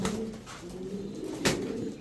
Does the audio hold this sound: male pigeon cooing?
yes